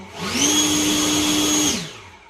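A Husqvarna 340iBT battery backpack leaf blower spools up into a loud, steady whining rush of air with a clear tonal hum, holds for over a second, then winds down.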